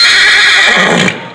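A horse in a competitive sport gives a loud, close, high-pitched whinny that holds steady and then trails off before cutting short at the end.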